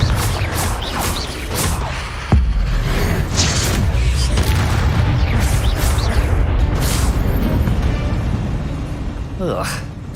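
Blasting-spell explosions from the video game Hogwarts Legacy burst as heavy booms over dense, continuous game sound, with a voice casting spells throughout.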